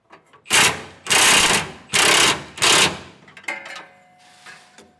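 Four loud, rapid bursts from an impact wrench snugging a bolt on a fifth wheel rail for a Curt custom kit on a 2015 Ram 1500, each burst about half a second long, followed by quieter clanking and ringing of metal parts.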